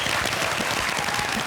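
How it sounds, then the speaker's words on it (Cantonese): A studio audience bursts into continuous, dense clapping to welcome guests onto a talk show, loud and steady throughout the short moment. "掌聲歡迎！"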